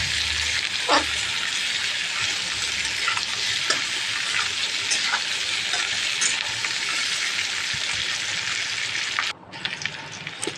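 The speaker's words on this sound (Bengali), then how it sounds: "এখন এই আলুটাকে আমি খুব ভালো করে ভাজবো।" Peeled boiled potato sizzles loudly in hot oil in a pan, a dense continuous crackle close by with occasional scrapes of a stirring utensil, the frying dropping away sharply near the end.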